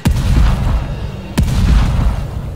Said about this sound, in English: busting out the shotgun